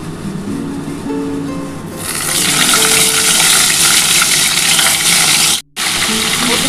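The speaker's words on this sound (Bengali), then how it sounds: "এবার এই তেলের মধ্যে আমি প্রথমে কিন্তু ফুলকপিগুলো দিয়ে দিচ্ছি।" Cauliflower pieces drop into hot oil and fry with a loud, steady sizzle that holds after a quieter start and cuts out for a moment near the end.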